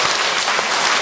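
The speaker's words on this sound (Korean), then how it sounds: "주지 스님인데 박수 한번 더 해야 되겠다." An audience in a Buddhist temple dharma assembly bursts into a short, dense round of applause, filling the whole moment with loud, steady clapping.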